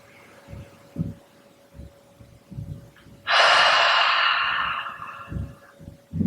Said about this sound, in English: Taking 3 more slow, deep, grounding breaths in your own time.